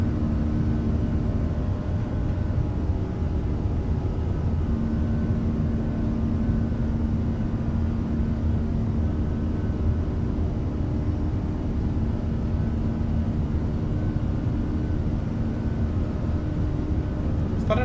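Airbus A340 engines spooled up to takeoff thrust in a flight simulator, a steady, loud, unbroken roar that holds at an even level from start to finish with no talk over it.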